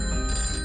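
A telephone bell ringing, a bright sustained electronic ring filling the short moment, loud and close with no talking.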